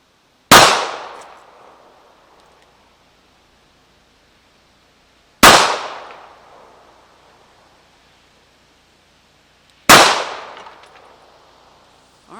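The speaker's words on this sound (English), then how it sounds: "Gonna move now to the 38, pretty close to the same distance at the same vehicle." Three loud, sharp .38 revolver shots fired at a vehicle door outdoors, each a single crack with a long fading tail, spaced about five seconds apart.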